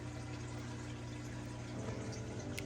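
Water poured onto a snake plant in its container, a low steady gurgling trickle with a faint mechanical hum beneath, continuous and fairly quiet.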